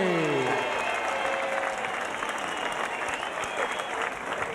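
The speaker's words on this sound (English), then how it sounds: "Big round of applause then for Francis Heagney." Sustained crowd applause and cheering for the winner of a BAMMA MMA fight after a first-round referee stoppage, loud and dense throughout, with a voice briefly audible near the start.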